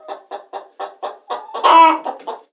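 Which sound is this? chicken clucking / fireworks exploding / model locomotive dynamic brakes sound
chicken clucking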